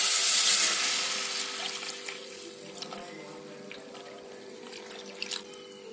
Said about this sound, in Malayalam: ഇനി നമുക്ക് നമ്മൾ നേരത്തെ അടിച്ചു വെച്ച മോര് ചേർത്ത് കൊടുക്കാം